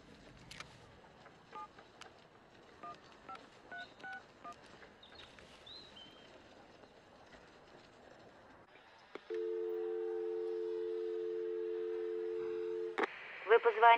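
A telephone number is punched in as a quick series of short keypad tones, followed by a steady line tone lasting several seconds and a few closing beeps, heard alone against quiet room background in a war film.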